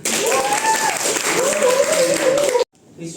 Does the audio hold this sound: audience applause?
yes